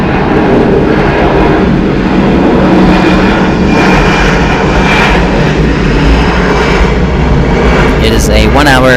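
A 21-year-old Airbus A319 airliner arrives at Atlanta Hartsfield-Jackson airport, a loud, close, continuous jet engine roar that holds steady, with a brief radio voice breaking in at the end.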